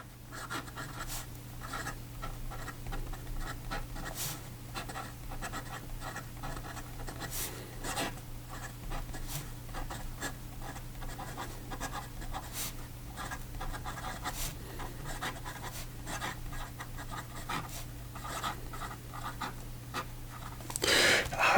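Fountain pen writing, a Cross Peerless 125 fitted with a Sailor nib, making a soft continuous scratch of strokes on paper, close up and quiet under a low steady hum, with no voices.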